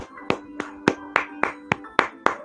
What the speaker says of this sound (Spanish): Eso merece muchos, pero muchos aplausos